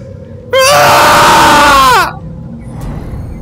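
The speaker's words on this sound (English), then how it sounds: "A Bray is yelling a harsh cry." A zombie Bray in the Saints and Sinners VR game lets out a loud, harsh, drawn-out yelling cry lasting about a second and a half, strained and raspy, then cuts off into quiet background.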